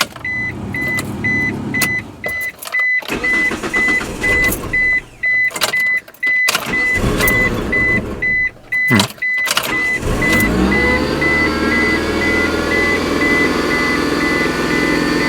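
A 1995 Mitsubishi Expo, due for an engine overhaul, gives a repeating warning chime and several clicks before the engine cranks and catches about two-thirds through. It then settles into a steady, slightly high idle up close.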